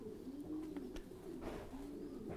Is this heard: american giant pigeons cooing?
yes